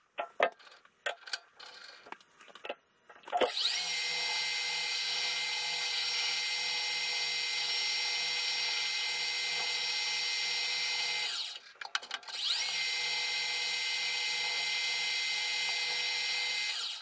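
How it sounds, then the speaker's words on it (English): A metal lathe turns a spacer part for a green silicon carbide and diamond cup wheel mounting kit, a steady whining hum with a faint low periodic tick, briefly interrupted by a pause and clunks near the middle before resuming; no speech. "Let's get it back over to the lathe and let's get part number three made."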